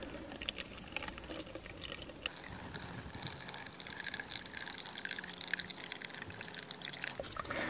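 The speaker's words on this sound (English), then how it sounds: "take this little bucket and place it under the water and see how long it takes for that water to reach the line" Water from a ram pump's delivery pipe splashes and patters steadily into a small bucket, a close, continuous filling sound with a brief shift in tone partway through as the stream settles.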